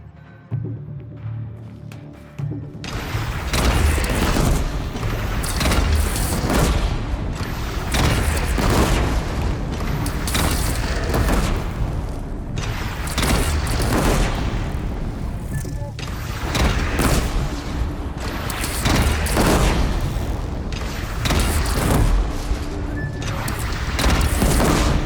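Repeated heavy booms from a cannon in a battle in Horizon Zero Dawn, loud impacts recurring every few seconds amid clattering combat noise, with voices speaking over them.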